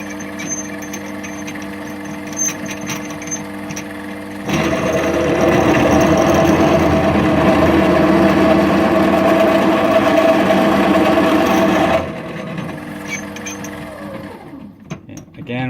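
Power drill spinning an unhardened drill bit against metal, a steady mechanical whine and grinding rattle that starts abruptly, holds evenly for several seconds, then cuts off into quieter handling noise.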